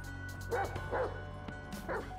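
A dog in Grand Theft Auto V gives three short, quick barks spaced about half a second apart, fairly quiet over a steady low game background hum.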